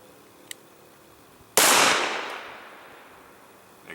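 A single sharp 9mm pistol shot from a Smith & Wesson M&P Shield fired into ballistics gel on a range, a loud sudden crack with a long decaying echo that fades over about two seconds.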